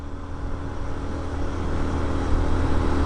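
A Yamaha SZ motorcycle engine drones steadily while climbing a steep road, a close, continuous hum mixed with wind rush that builds slightly toward the end, with no talking.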